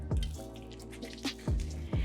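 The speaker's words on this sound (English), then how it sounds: "Now I'm also gonna add a splash of white wine vinegar." White wine vinegar splashed into a bean salad while cooking, heard as a few short close drips and splashes of liquid against a faint steady background hum.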